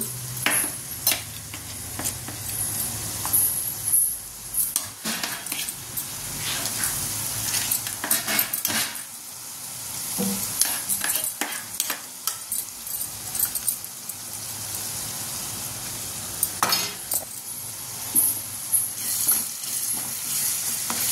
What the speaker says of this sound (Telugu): ఆనియన్స్ కొంచెం వేగాక ఇద్దండి అల్లం వెల్లుల్లి పేస్ట్ అయితే వేస్తున్నా.